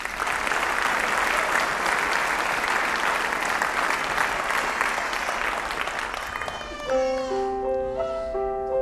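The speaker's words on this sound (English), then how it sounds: "A nice round of applause," A concert audience at a men's chorus performance claps warmly for the evening's accompanist, a dense steady applause that fades out as sustained piano notes enter near the end.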